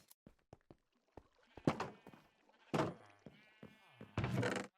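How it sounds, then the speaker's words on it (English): Sheep on an automated wool farm in Minecraft bleat in a few close, distinct calls, mixed with short knocks and clicks from the game. "I just have all my sheep here."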